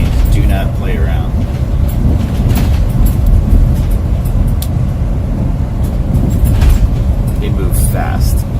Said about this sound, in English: Can I just say I love this train now?